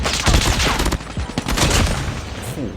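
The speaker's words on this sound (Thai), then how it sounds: "ขอยิงแบบนี้เลยแล้วกัน เอากระสุนหมด" Rapid automatic fire from the M13 Liminal Flare rifle in Call of Duty Mobile, a loud continuous burst of crackling shots running almost the whole time, with a brief dip midway.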